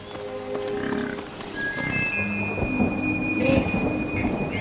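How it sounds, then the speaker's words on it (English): A storm rolls over the African savanna, with a steady wash of rain and low rumbling thunder building beneath it, plus a few thin tonal sounds drifting above. "The arrival of rain changes everything."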